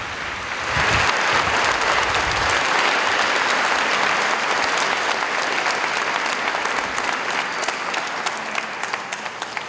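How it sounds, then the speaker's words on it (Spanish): A church congregation applauds during Mass for a parish's patronal feast and 59th anniversary; a brief low rumble leads into a long, full round of clapping that stays loud and thins slightly toward the end. "Démonos también nosotros ese aplauso."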